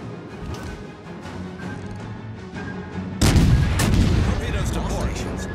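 Heavy naval gunfire in World of Warships: Legends, a dense rumbling roar that breaks in sharply about halfway through and stays loud, laid over an earlier steady battle drone.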